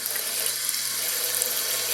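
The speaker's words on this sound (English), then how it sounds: "you're just going to run the water and separate the seeds from the flesh" Tap water runs steadily and loudly over pumpkin and squash seeds in a colander in a kitchen sink, a continuous close splashing hiss with no talk.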